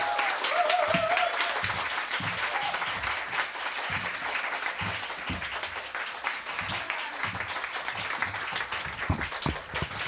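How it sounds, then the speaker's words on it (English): Audience applause after a literary reading, a dense, steady wash of many hands clapping that carries on for about ten seconds at an even level, with no voices over it. "Let's give another round of applause for Jen and Sonya."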